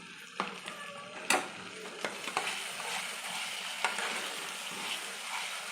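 Chicken masala sizzling in oil on low heat as beaten curd is added, with a continuous frying hiss broken by a few sharp spatula knocks and stirring scrapes, close and moderately quiet.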